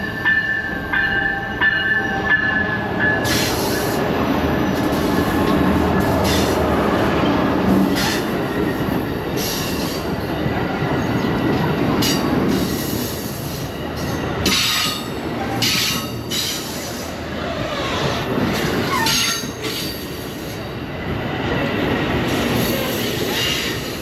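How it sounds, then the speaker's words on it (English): An Amtrak train leaving Emeryville rumbles steadily throughout, with wheels squealing and clattering over the tracks, heard from inside the carriage, loud and continuous. "we just got on the train and we are already moving"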